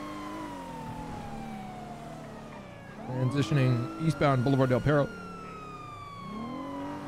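A police siren wails in a GTA-style video game police chase, a steady tone gliding slowly downward behind radio chatter and someone talking.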